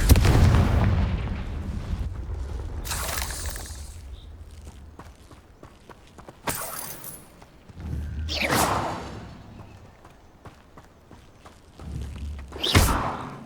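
Confringo fire-blast spell from the Hogwarts Legacy game bursting in loud booming thumps: a heavy impact at the start, then sharp blasts around mid-clip and near the end, with rumbling low debris between.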